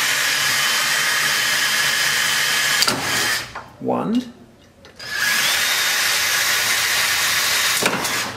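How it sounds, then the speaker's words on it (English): A power drill bores out rivets on an RV-10 aircraft tailcone, two steady loud whining runs separated by a brief pause, with a short spoken word in the gap. "just put our drill and drill bit here"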